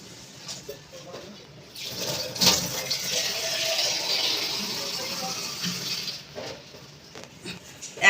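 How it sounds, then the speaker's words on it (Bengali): Water poured from a mug into a pot of beef biryani, a gushing splash of liquid for several seconds, with clatter and softer sounds before and after. "এক মগ পানি দিচ্ছে।"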